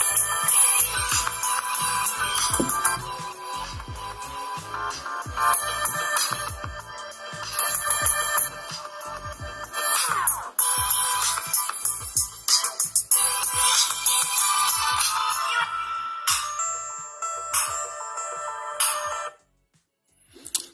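An Elephone A8 smartphone plays a ringtone through its small built-in speaker, a bright, busy electronic melody that runs steadily for most of the stretch before cutting off near the end, heard close with no talk over it.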